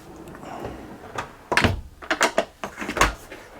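A dishwasher drawer aboard an Amel 50 sailboat is pulled open, giving a series of close thuds, clacks and sliding rattles in quick succession, fairly quiet, with no talking.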